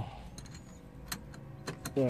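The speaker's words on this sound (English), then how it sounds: "Take out the keys." A set of keys jangles close by in a few quick, bright metallic bursts over a low steady background, with the loudest rattle right at the end.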